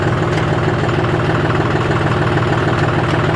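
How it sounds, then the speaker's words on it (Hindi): A John Deere 5050D Gear Pro 4WD tractor engine idles with a steady, even low rumble and vibration, close by and loud throughout, with no voices. "यहीं पर टॉप गियर में ही है ट्रैक्टर, केवल रिवर्स डाल दूंगा, ट्रैक्टर मेरा रिवर्स जाने लग जाएगा।"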